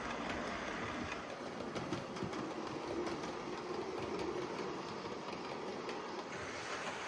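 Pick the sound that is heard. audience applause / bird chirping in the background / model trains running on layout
model trains running on layout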